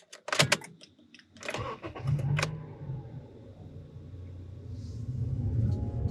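A 2012 Honda CR-V, a small SUV, starts up after a few clicks and a door thump, then settles into a low steady engine hum that builds gradually as it pulls away.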